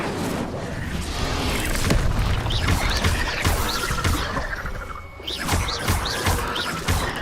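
Fire spell cast in Hogwarts Legacy, a dense roaring burst of flame and crackling impacts filling the whole stretch at steady loudness, with a brief dip before flaring up again.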